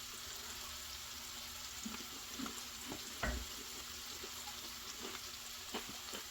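Crispy bacon goes into colcannon in a cast iron pan, giving a soft, steady frying sizzle with scattered light clicks and scrapes, close but fairly quiet.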